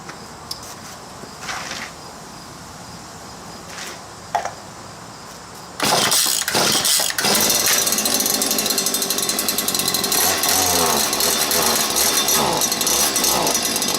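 A Stihl KM130 4-mix engine is pulled over with a few quiet rasping starter pulls, then fires at about six seconds and settles into a loud, steady, buzzing run that continues close by.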